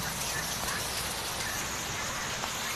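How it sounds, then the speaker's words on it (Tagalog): Steady rain falls outside in a dense, even hiss that fills the clip without pause, with no talking heard. "It is raining"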